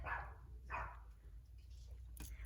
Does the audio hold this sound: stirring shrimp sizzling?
no